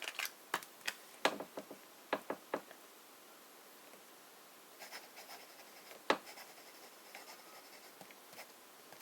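Medium-nib fountain pen with Pelikan Turquoise ink writing on paper. Quiet, close scratches and taps come in irregular strokes, with a softer stretch of continuous scratching in the middle.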